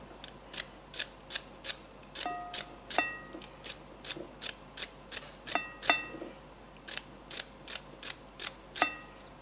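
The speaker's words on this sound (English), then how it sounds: "So just cutting little pieces of celery in there." Celery cut into little pieces for coleslaw, heard as a steady series of about twenty crisp, close snipping clicks in quick rhythm over quiet room tone, with no talk.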